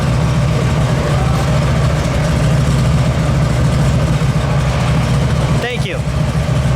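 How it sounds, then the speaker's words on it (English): A red 1964 Dodge Polara 500 Ramcharger with a 426 Stage III Max Wedge V8 idling, a loud steady low rumble close by, with a brief squeak near the end. "Let me listen to it idle"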